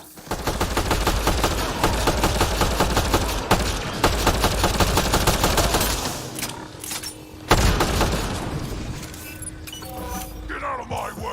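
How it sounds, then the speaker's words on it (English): Rapid automatic weapon fire from a Mass Effect Andromeda battle pours out in dense, continuous volleys, then breaks into a few heavy isolated blasts and scattered shots, with voices speaking over the action. "Shooting as fast as I can!"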